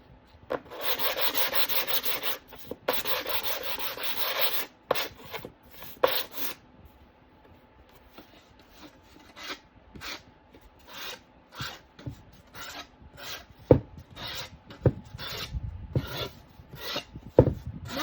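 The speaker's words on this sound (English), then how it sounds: "really sanding, I'm just kind of brushing the paint fibers down" Steady rubbing strokes of hand sanding on wood, first a long continuous stretch, then shorter scattered rasps with pauses between them.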